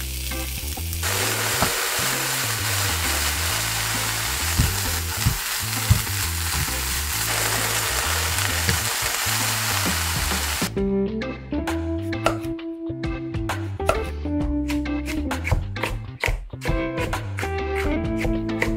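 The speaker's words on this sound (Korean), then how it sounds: "채 썬 당근을 볶아주세요." Julienned carrots stir-fry in a pan with salt for kimbap, giving a dense continuous sizzle that runs loud through the first half, then continues more thinly beneath a steady rhythmic music bed.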